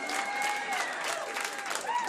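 A comedy club audience applauds and cheers in a dense wash of clapping that continues steadily throughout.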